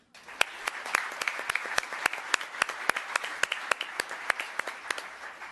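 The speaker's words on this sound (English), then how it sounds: "Round of applause." Audience applause at a town council meeting: steady clapping from a room of people, with several sharp individual claps standing out close by, sustained for several seconds without talk.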